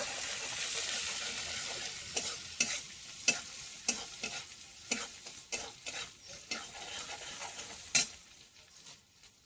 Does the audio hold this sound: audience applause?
no